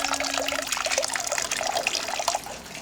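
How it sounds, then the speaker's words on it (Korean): Beer poured into a glass at a ryokan dinner in Yufuin, Japan, a close, steady liquid trickle and splash that fades slightly toward the end. "맥주 좀 따라주세요."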